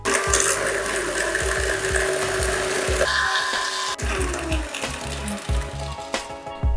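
An electric mixer whirs steadily at high speed, whipping a mixture with sugar until fluffy, a continuous dense mechanical buzz with a slight shift in pitch midway, no voices.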